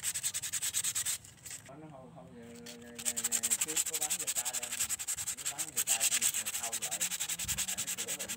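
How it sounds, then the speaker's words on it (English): Sandpaper rubbed over a washed coconut shell, a steady dry scraping with rapid back-and-forth strokes that runs throughout and briefly drops off early. Faint tonal sounds run beneath it. "I washed the coconut shell and rubbed it with sandpaper"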